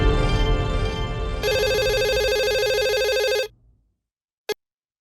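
A telephone rings loudly on its own in a comedy sitcom setting, one long continuous electronic ring that stops abruptly, followed by a brief click.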